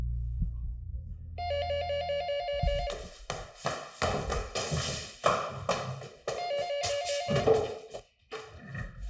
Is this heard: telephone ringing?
yes